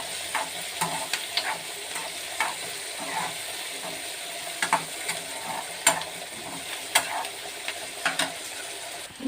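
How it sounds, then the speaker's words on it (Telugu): Onions and okra frying in a pan give a quiet, steady sizzle broken by frequent sharp crackles and pops, with occasional clinks of stirring, and no talking. "ఆనియన్స్, బెండకాయ అన్నీ వేగిపోయినాయండి."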